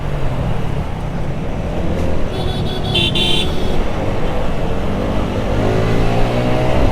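A Yamaha R15 motorbike races and revs along a road, its engine roaring steadily and close amid traffic noise, with a brief horn toot partway through.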